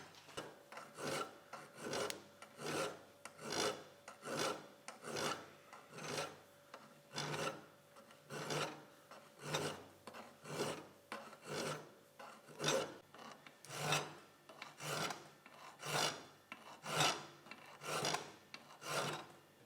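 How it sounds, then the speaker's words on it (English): Small hand files shape the steel receiver of an A.H. Fox shotgun. Slow, even rasping strokes repeat about once a second, each a dry scrape, close and clear with no talking. "that's a whole lot of work with little tiny files and chisels"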